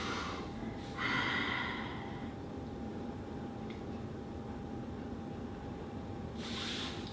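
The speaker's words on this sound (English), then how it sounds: "pull yourself down, exhale" Breath exhaled during a forward fold on a yoga trapeze, pulling down on the straps: a soft, airy breath near the start, then a second fainter breath near the end, over a steady low room hum.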